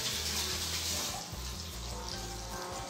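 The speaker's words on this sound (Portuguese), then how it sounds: "Eu vou aqui dar uma lavada nas mãos." Tap water runs steadily into a kitchen sink as hands are washed while bolinhos de mandioca fry, a continuous close splashing hiss lasting throughout with no talk.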